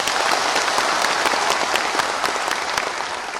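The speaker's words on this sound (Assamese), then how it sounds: "এটা বিশাল হাত চাপৰি মাৰিবলৈ অনুৰোধ কৰিছোঁ" A large crowd gives a big round of applause at a public gathering, dense steady clapping that stays loud throughout with no talk over it.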